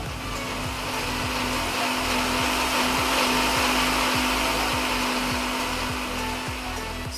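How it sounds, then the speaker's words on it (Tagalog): A kitchen blender whirs steadily, grinding sautéed vegetables into a salsa for a meat dish. The motor drones loud and unbroken throughout, with no voices over it. "ilalagay ko siya sa blender at atin siyang gigiliin."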